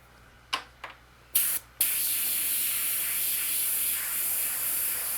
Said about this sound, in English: So for that, I'll use the airbrush.